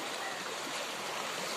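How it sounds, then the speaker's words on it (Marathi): Rainwater floods across a road and flows past in a constant broadband rush, close and loud with no pauses. "सगळं पाणी झालंय रस्त्यावर"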